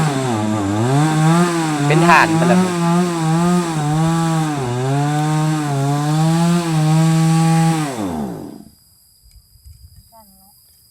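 A chainsaw engine drones loudly and steadily while cutting large wood, its pitch rising and dipping as it works, then cuts out after about eight seconds; a voice speaks over it.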